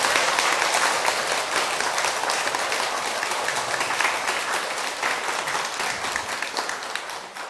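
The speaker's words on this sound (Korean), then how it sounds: "네, 박수 한번." Dense, steady applause from an audience at a Korean religious lecture, loud and continuous for several seconds with no voices over it.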